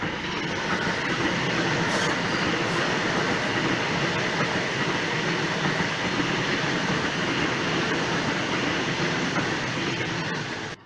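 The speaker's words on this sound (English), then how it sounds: "Waratah passing platform number 1." A Sydney Waratah train passes platform 1 at Macdonaldtown, a loud continuous rush of wheels and rail noise held close throughout with faint squeals, ending in a sudden cut-off.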